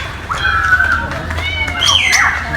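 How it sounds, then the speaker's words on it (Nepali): A colourful parrot perched at a zoo lets out a few harsh, rising squawks, loudest near the end, over a low murmur of visitors and children. "सोनी कलर प्यारोट सुगा ओ पुरै बसिरहेको छ माथितिर"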